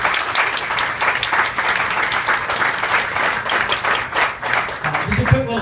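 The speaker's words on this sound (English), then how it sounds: "So please give those guys the recognition and the round of applause they deserve." Loud, sustained round of applause from a crowd of staff at a company holiday party, dense clapping filling the whole stretch, with a voice speaking briefly near the end.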